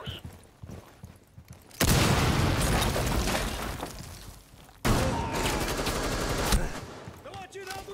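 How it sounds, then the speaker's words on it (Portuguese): Heavy bursts of rapid gunfire in Rainbow Six Siege erupt after a quieter opening, sustained loud volleys with a brief pause, then another long barrage close by. "Estão atirando na gente!"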